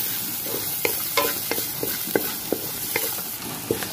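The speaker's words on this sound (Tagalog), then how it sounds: "habang ginigisa yung ginger, kumukulo na yung ating eggs" Ginger sautéing in a pan with a steady low sizzle, broken by repeated light stirring knocks and scrapes of a utensil against the pan, up close and without talk.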